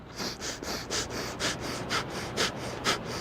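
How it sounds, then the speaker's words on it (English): Rapid staccato alternate-nostril breathing during a yoga session, in through the left nostril and out through the right, with about seven sharp, evenly spaced breath bursts close to the mic. "The pace is fast, like staccato breath."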